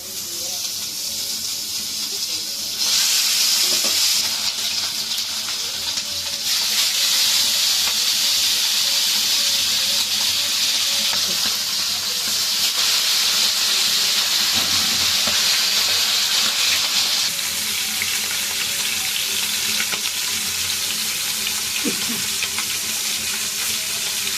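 Tilapia fish fries in a pan of preheated hot oil, giving a loud, steady sizzle with hissing and crackling that swells and eases across the whole stretch, close up and uninterrupted by talk.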